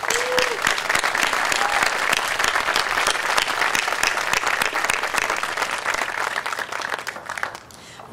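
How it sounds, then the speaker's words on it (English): Audience applause at a city State of the City address honoring city officers, steady sustained clapping from a crowd filling the room for about seven seconds before tapering off near the end. "please give them a round of applause again"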